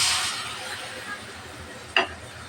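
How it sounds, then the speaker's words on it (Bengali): Spice paste stir-frying with browned onions in a pan gives a soft steady sizzle, with a brief scrape or clink of the utensil against the pan near the end; nobody talks. "মশলাটা ভালোভাবে কষিয়ে"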